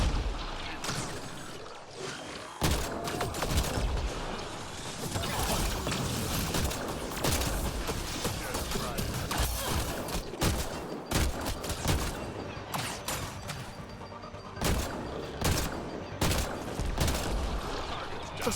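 A slow, hard-hitting gun in the Mass Effect Andromeda video game fires in dense repeated volleys of loud shots and booms amid ongoing combat noise, with a voice now and then.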